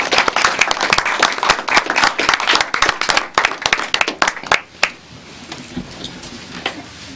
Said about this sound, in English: Go round of applause.